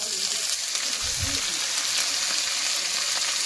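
Fiddlehead fern greens and potatoes fry in a small wok, a loud continuous sizzle and crackle close by, with a brief low voice murmuring early on.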